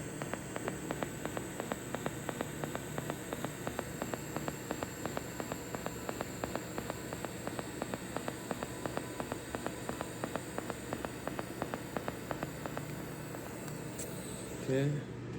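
A TIG welder fuse-welds tubing with no filler, giving a steady low hiss and hum broken by a rapid, regular buzzing pulse throughout, faint and close, with a brief clunk at the end.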